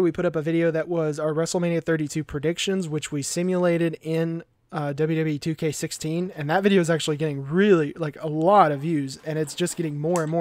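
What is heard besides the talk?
No everyday noises stand out.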